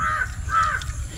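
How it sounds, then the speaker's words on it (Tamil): A crow caws twice in quick succession, harsh and fairly close, against a low background hum in a home kitchen during cooking. "என்ன காக்கா கத்துது?"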